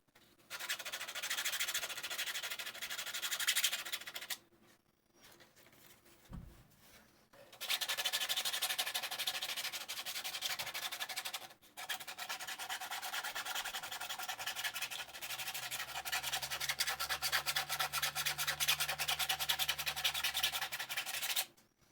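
A raw 3D print is sanded by hand with coarse 80 grit sandpaper, giving close, steady rasping strokes in long runs with a few brief pauses and a faint low hum underneath.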